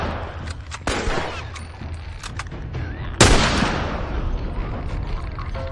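Gunfire in The Last of Us: two loud, sharp shots a few seconds apart, each with a ringing, reverberant tail, over tense game ambience.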